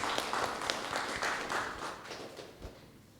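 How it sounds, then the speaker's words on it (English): An audience at a university money-week event gives a short round of applause, with scattered claps that thin out and fade within a few seconds. "Please give him a round of applause before he speaks"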